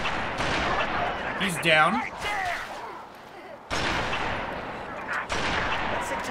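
Gunfire in the Halo 3 video game: several loud bursts of shots and blasts that break up a continuous roar of game noise, with a player talking briefly over them.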